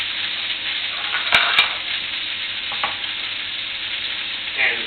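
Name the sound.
beef roulade searing in a pan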